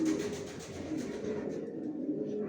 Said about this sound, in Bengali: কারণ আমার লফটে তো অনেক কবুতর